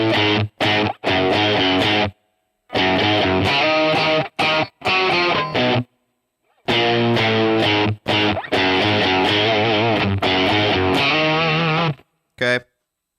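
Lead electric guitar plays the verse of a song through a Line 6 Helix patch, a bright, effected tone in clipped phrases broken by short pauses, loud and close with no voices.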